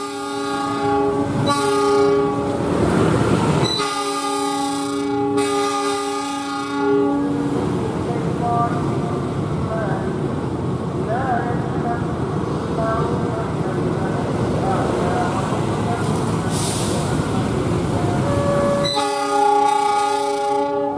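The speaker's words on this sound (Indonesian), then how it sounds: "Ada kereta lagi nih, belakangnya kereta" A train rumbles past a rail yard with loud, repeated horn blasts at the start and end, steady wheel noise rolling through the middle, a power car at the rear.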